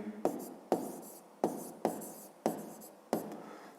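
A pen writes math sums by hand on paper in six distinct bursts of scratching strokes, each starting sharply and fading, heard close and quiet without talk.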